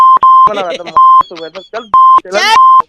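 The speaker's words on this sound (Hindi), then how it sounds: "Oh my God, phone cut गया।" A phone call cutting off gives a steady, loud beep tone repeated four times at even spacing, alternating with bursts of people talking between the beeps.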